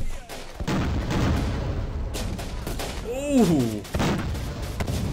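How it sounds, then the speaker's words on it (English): Gunfire rounds from the war video game Syrian Warfare at Deir El Zoor crackle as dense, continuous battle noise with sharp cracks and booms, and a short exclaimed voice cuts in near the middle. "they're just firing rounds over us"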